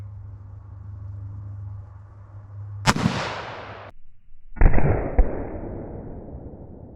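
A 5.56mm IMI Systems rifle fires a 62 grain penetrator round into a test block: one sharp, loud report with a rumbling tail, then a second heavy crack and a decaying roar over a low steady hum.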